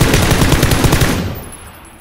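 Automatic gunfire in the battle royale game PUBG, a loud rapid burst of shots in a steady rhythm lasting about a second, then fading out into quiet.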